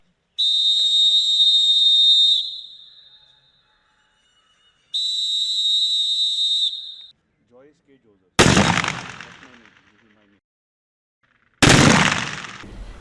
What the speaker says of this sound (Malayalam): ആലപ്പുഴ ജില്ലാ പട്ടാള ഉദ്യോഗസ്ഥർ റൈഫിൾ ക്ലബ്ബിൽ ഷൂട്ടിംഗ് പരിശീലനം നടത്തി.